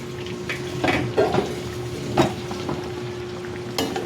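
Water splashes into a metal cooking pot for chicken tinola, a few close, uneven pours and sloshes over a steady background hum.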